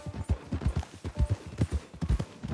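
Horse hooves clip-clop in a steady, fairly loud trotting rhythm in a PS4 video game, with about a dozen paired hoof strikes over a faint background bed.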